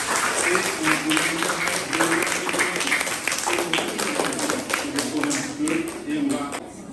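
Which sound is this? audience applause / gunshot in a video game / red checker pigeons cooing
audience applause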